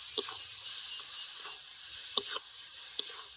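Ripe pointed gourd frying in a pan with salt and a pinch of turmeric, a steady soft sizzle with a few sharp clicks of a spatulum stirring against the pan.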